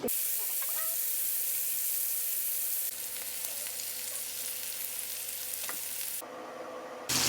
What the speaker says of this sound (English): we'll throw the steak in, and then you just kind of cook it to whatever you want